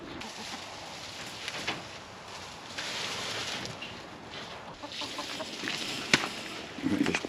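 Chickens penned behind hardware cloth beside a barn and coop under construction, clucking softly and intermittently over a continuous outdoor background, with a few sharper sounds near the end.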